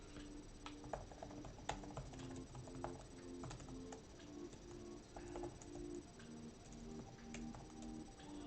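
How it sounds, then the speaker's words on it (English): Computer keyboard being typed on, faint irregular clicks and taps scattered over a low background hum, with no talk. "I'm typing on the wrong goddamn keyboard"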